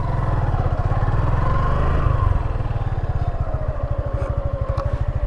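Suzuki Gixxer Fi ABS motorcycle engine running close by, a steady throbbing idle that rises as it revs and pulls away, then settles into a clear rapid pulsing rhythm.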